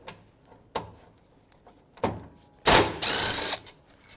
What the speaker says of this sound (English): So now I got to take the battery hold down off, and that's a 10mm socket.